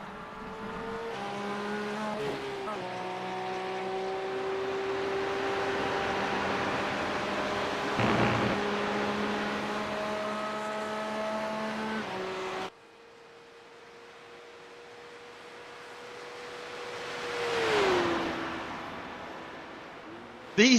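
Porsche Cup race cars in a sim racing heat race at The Glen howl with sustained high engine tones, shifting pitch through gear changes, then a single car passes by closer and fades.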